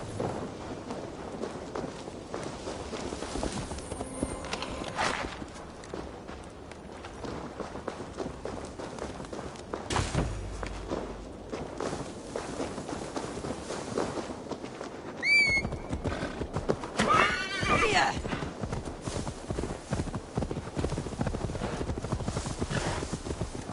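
Horse hooves clip-clopping at a run with occasional neighs in Assassin's Creed Valhalla, a steady galloping rhythm over faint ambient game sound throughout, with a louder stretch midway.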